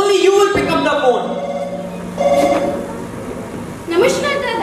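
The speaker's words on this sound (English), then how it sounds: "Romila, only you will pick up the phone" A telephone rings repeatedly during a school's English play at an annual function, with short, bright bursts recurring every couple of seconds over a steady background of voices and stage talk.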